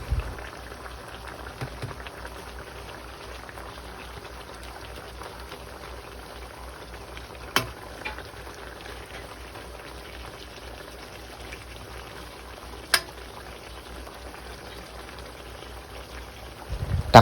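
A pot of tilapia broth with chili leaves simmers at a steady rolling boil, giving a continuous bubbling hiss with a couple of faint clinks.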